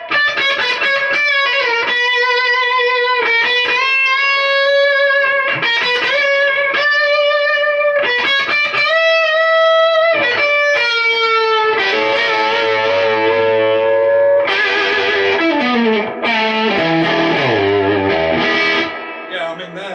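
Electric guitar fitted with Fishman Fluence Classic humbuckers played through a Fender Deluxe Reverb amp, giving clean vintage-style tones: steady strummed and picked chords and short melodic runs with a touch of reverb, loud and continuous throughout.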